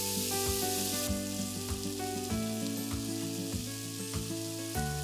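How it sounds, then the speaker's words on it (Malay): Marinated beef sizzles and fries on a grill pan, a steady close crackle of hot fat with faint clinks of utensils over it. "Jangan balikkan cepat sangat, tunggu biar ada kesan grill, barulah kita kerap balik."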